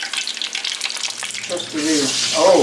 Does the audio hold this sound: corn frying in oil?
yes